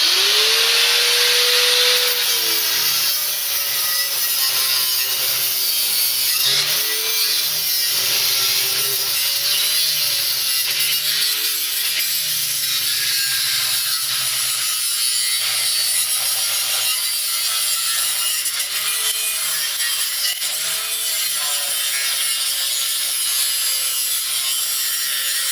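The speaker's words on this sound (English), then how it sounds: "I'm going to use a right angle grinder. And here we go. It's going to make a whole bunch of noise" A right angle grinder grinds down a steel snowblower scraper rail in a loud, sustained, close-up harsh whine, its pitch dipping and wavering as the disc bites into the metal.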